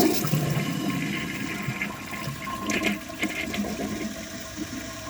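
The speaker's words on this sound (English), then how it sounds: "I'm gonna wait for it to fill up and then I will try a second flush." A Gilpin ProFlo toilet flushes and begins refilling, a loud rushing swirl of water that settles into a steadier, softer hiss of the tank filling, close by with no talking.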